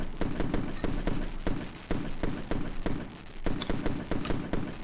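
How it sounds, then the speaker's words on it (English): A fireworks sound effect plays rapid, loud bursts of crackling pops and bangs at an irregular quick rhythm, continuing without pause throughout. "We'll get the fireworks going for that."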